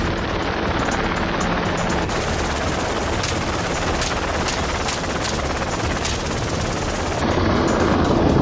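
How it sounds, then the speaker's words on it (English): Steady helicopter rotor roar throughout, with several sharp AR-15 rifle shots cracking out at irregular intervals over the drone during a wild hog hunt. "From the helicopter, a hunter aims an AR-15, taking down hogs with precision."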